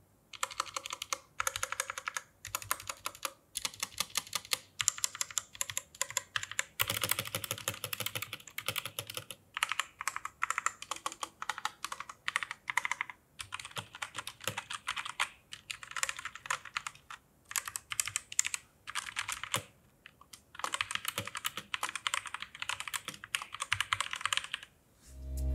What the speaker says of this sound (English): here is an ASMR video of me typing on this keyboard, and this is how it sounds like without modding it whatsoever